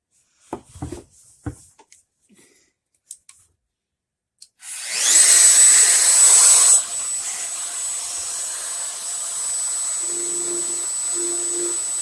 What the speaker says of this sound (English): I'm gonna router all these edges all around on both sides